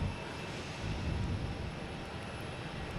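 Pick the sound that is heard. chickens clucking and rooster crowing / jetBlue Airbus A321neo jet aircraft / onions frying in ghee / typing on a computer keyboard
jetBlue Airbus A321neo jet aircraft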